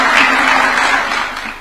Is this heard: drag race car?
no